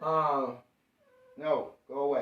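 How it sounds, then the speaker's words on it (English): A house cat meows loudly and insistently at close range in a series of harmonic cries, with a short pause before two more meows; a person speaks briefly over it. "Sorry, that was my cat."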